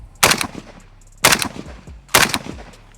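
Three loud, sharp gunshots evenly spaced about a second apart from a 7.62 AK rifle fitted with a prototype 24mm Unrivaled muzzle brake, fired outdoors up close, each blast followed by a short ringing decay.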